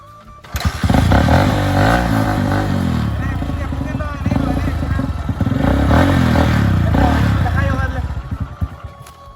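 A newly bought motorcycle started close up; the engine catches and runs loud and steady with rising revs and mechanical clatter for several seconds.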